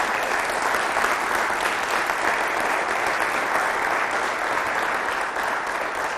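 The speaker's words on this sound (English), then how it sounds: "give them a round of applause" Steady, dense applause from a large audience at a homecoming lecture, a sustained wash of many hands clapping at an even level throughout, with no voices standing out.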